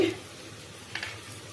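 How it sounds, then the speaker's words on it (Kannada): Crushed ginger, garlic and green chili fry in oil after onions in a chicken gravy, a soft, steady sizzle with a brief stirring scrape near the end. "ಮತ್ತು ಹಸಿಮೆಣಸಿನ್ಕಾಯಿ ಇದು ಸ್ವಲ್ಪ ಫ್ರೈ ಆಗಲಿ"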